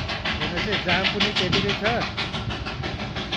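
Darjeeling toy train chugging through town in a steady rhythm of loud hissing steam bursts, with a rising tonal squeal, heard under someone talking.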